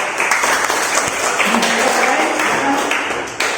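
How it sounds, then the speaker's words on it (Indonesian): Classroom of students applauding together during a lesson on boiling pots, a steady dense wash of clapping from many hands that fills the room and carries on throughout, with a faint voice surfacing under it. "Baik, tepuk tangan dulu ya."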